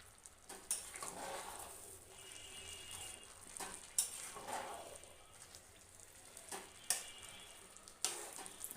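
Egg khichuri bubbles and sizzles quietly in a pot over a charcoal fire, a soft continuous crackle broken by a few sharp clinks and scrapes as a spoon stirs it.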